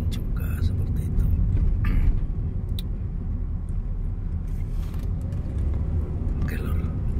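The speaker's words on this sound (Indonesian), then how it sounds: "ini berpapasan dengan mobil yang lain juga seperti itu" A car passes another car on a bumpy road toward Alas Roban, heard as a steady, loud low rumble of engine and road noise from inside the vehicle throughout, with faint murmurs in the background.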